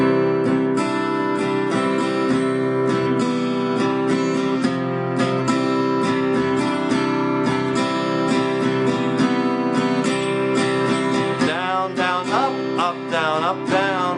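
Chords strummed on a guitar in a steady, continuous rhythmic pattern, close and bright, with a wavering tone near the end.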